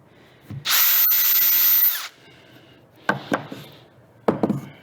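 A power drill whines at high speed boring into wood for about a second and a half, followed by a few sharp clunks and taps.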